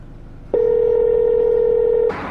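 A telephone gives a single steady tone lasting about one and a half seconds, loud and close over a faint background hum, then cuts off abruptly.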